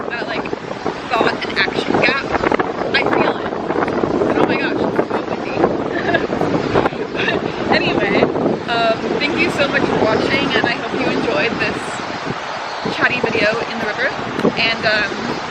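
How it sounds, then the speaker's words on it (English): Gusty wind buffets the microphone loudly and continuously in Japan while a person talks over it. "it's so windy."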